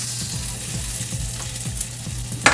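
Plenty of garlic fries in a pan for fried rice, a continuous close sizzle with soft stirring scrapes and a sharp clink near the end, no voices.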